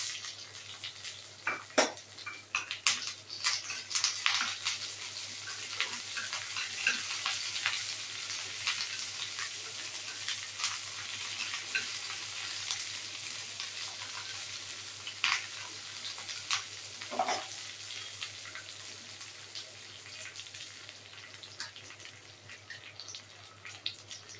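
Dried red chillies crackle and sizzle in hot oil with garlic and curry leaves for a tomato rasam tempering, a close, steady frying hiss punctuated by sharp pops and occasional metallic clinks of a pan.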